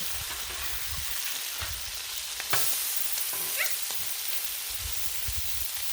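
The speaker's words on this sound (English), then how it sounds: "I don't know if it's kind of scrambling or frying eggs" Eggs frying on a flat-top griddle give a steady sizzle with a crackling hiss throughout, plus a few sharper clicks and scrapes near the middle; no voices.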